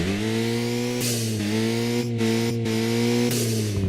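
A synthesized car engine drone with a hissing turbo whine, made as sound design: a loud, steady harmonic hum with brief bursts of broadband hiss as the pitch shifts slightly.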